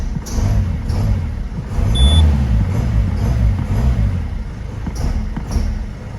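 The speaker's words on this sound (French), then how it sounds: "Là, je vais démarrer la voiture. Vous allez entendre un bruit." Running Peugeot 207 engine with an abnormal fault noise: a low, uneven idle rumble with pulsing irregularities, a brief high electronic beep partway through, and a few faint clicks, heard close up.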